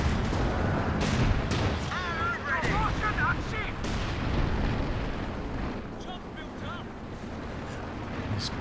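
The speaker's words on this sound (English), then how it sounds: "Tanks trading blows." Tank cannon fire and heavy battle noise in Company of Heroes 2, a real-time strategy game on the Metlovski map, with booming shots and rumbling explosions over a steady din of combat, with talk running beneath.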